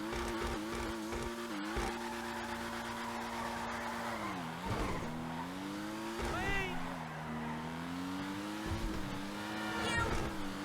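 Ocelot Pariah sports car from GTA Online, its engine droning steadily as it drives, with revs rising and falling through gear shifts and brief tire squeals, fairly loud and close throughout.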